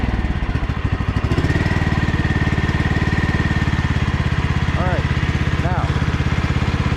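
A Troy-Bilt Bronco 46-inch lawn tractor's small engine runs at a steady, loud chugging idle, with a faint whine and a couple of brief chirps partway through.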